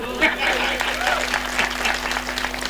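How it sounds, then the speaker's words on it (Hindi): Scattered audience applause rises at a Hindi comedy and satire show, a thin, uneven patter of clapping with a low hum beneath and voices audible over it. "तालियां कमजोर हैं।"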